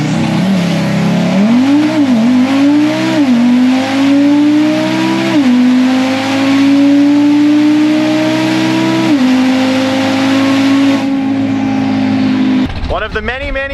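An 800HP Audi RS3 launches off the line in a bracket drag race, its engine roaring loud and close with rising revs through several gear changes, a steady high-power drone before an abrupt cutoff near the end.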